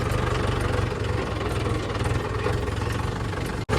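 A tractor engine idles close by with a steady, throbbing low rumble and a brief dropout near the end.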